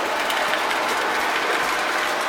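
A Lionel LionChief Union Pacific Hudson model train runs with a steady, dense mechanical rattle and clicking of gears and wheels on track, continuous and close, with no talk.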